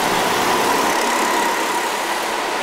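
Go-kart engines race around an ice-cold indoor karting track at Pioneer Valley, a steady, loud, continuous buzzing drone that holds its level throughout with no voices.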